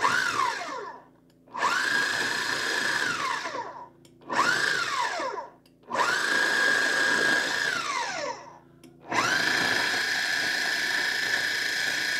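Pastry dough with butter is pulsed in a food processor until it turns coarse like meal: five loud, close whirring bursts of a few seconds each, separated by short pauses.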